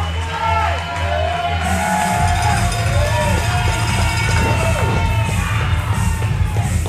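A pro wrestling crowd at a live match cheers and yells after a high-flying move, a continuous roar of voices with whoops and shouts, loud and sustained, under a commentator talking.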